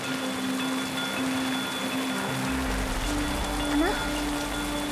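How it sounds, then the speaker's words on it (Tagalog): Rain pours steadily in a dramatic rural scene, a continuous broadband wash of falling water with a low rumble entering halfway through, heard alone at moderate level. "Lalong lumakas ang ulan."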